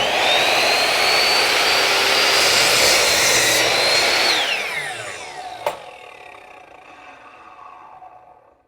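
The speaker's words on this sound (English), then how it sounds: "we're just gonna do a test cut here just to see how it works" A Ryobi 12-inch sliding miter saw makes a test cut, its loud high motor whine holding steady for several seconds before spinning down, with a sharp clunk as the blade winds to a stop.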